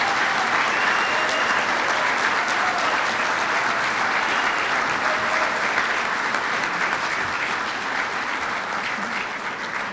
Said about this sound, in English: Can we have a round of applause for all of our veterans?